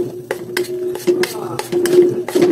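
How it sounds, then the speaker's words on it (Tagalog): Spoon scraping and clinking in a pan while stirring KFC-style gravy as it browns, a string of sharp metallic taps at an irregular rhythm over a low steady hum, close and fairly loud. "tuloy-tuloy lang sa paghalo hanggang maging golden brown na siya guys"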